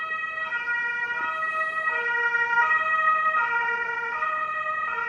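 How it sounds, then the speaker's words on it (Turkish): An ambulance siren wails in a repeating two-tone pattern, loud and steady as it passes by, with road traffic rumbling underneath. "Allah şifasını versin ambulans gidiyor."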